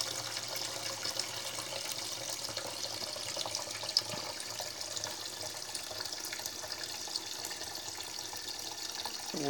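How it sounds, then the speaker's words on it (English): Hot water tap opened over a beaker, with water running steadily in a continuous hiss and splash throughout, fairly close, with no voices. "I'm now opening up the hot tap."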